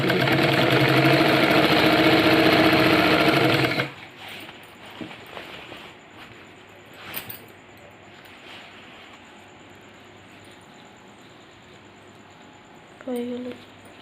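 A sewing machine stitches the side seams of girls' pants in a loud, steady whir for about four seconds, then stops, leaving quieter handling clicks and rustles.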